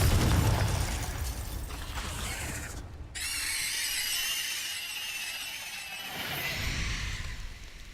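Confringo fire spell bursting in the Hogwarts Legacy video game, a loud blast followed by a crackling, hissing roar that swells and fades over several seconds, with another low rumble near the end.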